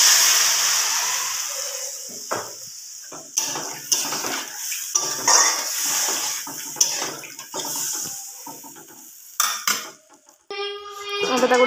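Water poured into a fish curry in a pan, a close, loud splashing and bubbling rush with clinks of utensils against the pan, ending in a brief rattle, with no talk.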